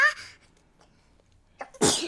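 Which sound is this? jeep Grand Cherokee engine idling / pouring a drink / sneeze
sneeze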